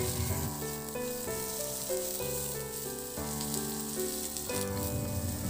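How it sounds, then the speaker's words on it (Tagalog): Onions sauté in a pan for a creamy pork belly and broccoli dish, giving a soft, continuous sizzle beneath background music with only faint stirring. "Ihalo lang din hanggang sa maluto yung sibuyas o kaya mag-translucent."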